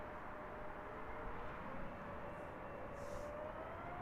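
A steady, loud roar from a British Airways airliner departing Heathrow Airport, a continuous jet engine drone with a faint rising whine and no voices.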